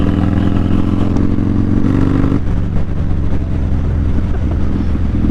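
The engine of a Yamaha MT-09 SP motorcycle roars loudly and close during power shifting. Its pitch changes where a gear shift comes at about two seconds, and engine noise stays under way throughout.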